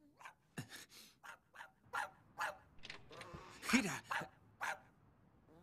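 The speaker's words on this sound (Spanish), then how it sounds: "¿Por qué ladra ese perro?" A dog barks nearby in a tense indoor scene from an anime episode, sharp repeated barks spaced through the clip, heard alongside a shouted voice and gasps.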